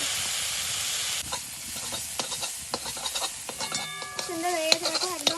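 Gima greens frying and being stirred in a pan: a soft hiss of sizzling broken by scraping, clinking strokes of a spoon or spatula against the metal, close by and fairly quiet.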